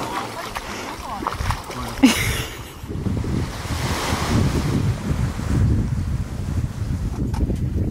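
Wind rushes steadily past a sailboat under sail in light winds, with waves splashing against the hull throughout, a close, roaring, continuous noise and a brief gust near the middle.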